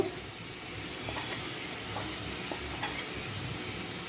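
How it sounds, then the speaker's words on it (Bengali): A spoon stirs turmeric, coriander, cumin and chilli powder with water in a bowl to make a paste. Faint, sparse clicks and scrapes sit over a steady hissing background, with no talk. "ধনে, জিরে, লাল লঙ্কা সব কিছু মিশিয়ে একটা পেস্ট তৈরি করে নেব"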